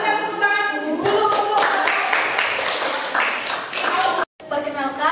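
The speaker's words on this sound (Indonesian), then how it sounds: "Yang presentasi kita tepuk tangan dulu." A group in a workshop or training session claps for presenters, a brief burst of scattered hand claps mixed with voices, with talking before and after.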